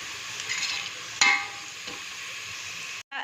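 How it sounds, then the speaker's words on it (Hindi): Sliced onions frying in hot oil in a pan give a steady bright sizzle, with a sudden louder crackle as they are stirred, close and continuous with no voices. "तो यहाँ पर जी हम प्याज को जो है वो ऑयल में फ्राई कर रहे हैं"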